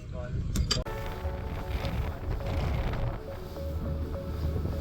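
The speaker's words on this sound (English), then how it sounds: "Unfortunately today, the wind did continue to rise and the weather gods were not on our side." Wind blows at sea aboard a fishing charter boat off Houhora, a steady rushing roar with low rumble from the water and hull, plus a brief clatter at the start.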